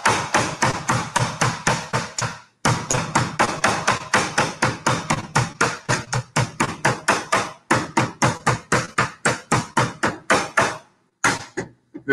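Pork being pounded flat with a meat mallet through a plastic sheet, a long run of loud, steady thumping blows in close succession with a couple of short pauses, no talking.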